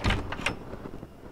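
A locked door in the horror game Araya rattles under a few quick tugs, short muffled knocks that fade into a quiet room tone.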